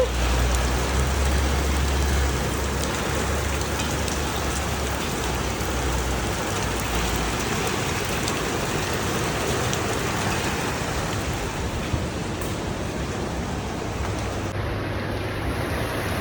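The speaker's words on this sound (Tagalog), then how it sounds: "Grabe, ang lakas ng ulan." Heavy rain pours in a steady, dense roar that stays loud and close throughout, with no talk.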